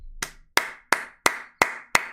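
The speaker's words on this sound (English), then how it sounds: "She's already clapping." Six crisp hand claps ring out in a steady, evenly spaced rhythm, each sharp and close with a quick decay, with no other sound between them.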